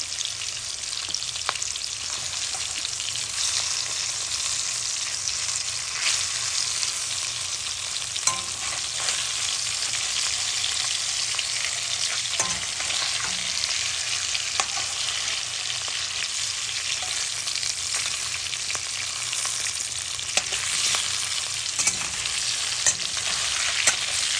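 Hilsa fish pieces frying in oil in a pan, a steady, close crackling sizzle running unbroken throughout with occasional louder pops, no voices.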